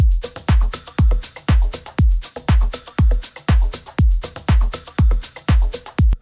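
Electronic melodic house drums layered with rides, a steady four-on-the-floor kick with booming low thumps and crisp cymbal hits on a tight repeating groove, loud and alone.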